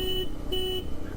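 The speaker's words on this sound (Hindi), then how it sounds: "हॉर्न सुन लो पहले।" A Hero Xpulse 210 motorcycle's horn gives two short, evenly pitched beeps, each about a quarter second long and recorded from close by.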